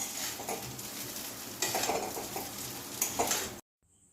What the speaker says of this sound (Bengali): কাঁটা চামচ ধরেছি খুঁটি ধরেছি ধরে একটু নাড়িয়ে নিচ্ছি